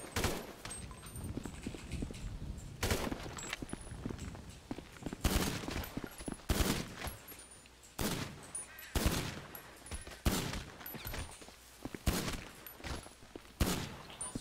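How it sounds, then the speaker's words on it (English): M16 rifle fire in GTA V, loud repeated bursts of rapid close gunshots spaced every second or two, with brief quieter gaps between volleys. "It's funny that hip firing can be more accurate than aiming down the sights."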